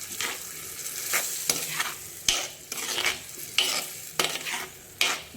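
Tomato purée from three medium tomatoes fries in a pan with a continuous sizzle, broken by rhythmic scraping strokes of a spoon stirring it about once every second.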